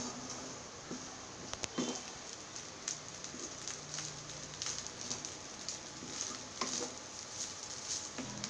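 Pepper egg fried rice being stirred in a pan, with a steady soft sizzle and scraping under faint clinks of a utensil against the pan, close and fairly quiet.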